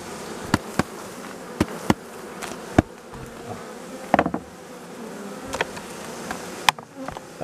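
Honeybees buzz in a soft, continuous drone during a honey harvest, punctuated by sharp clicks and knocks from the hive work, with no voices.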